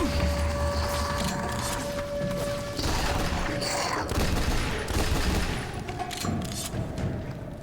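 Gunfire in XCOM The Bureau, with dense shots, crashes and thuds layered over steady game background noise throughout, moderately loud and continuous.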